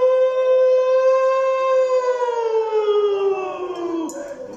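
A human voice imitates a police siren, singing a sustained wailing tone that slowly sinks in pitch over several seconds, close and fairly loud, with a little noise near the end.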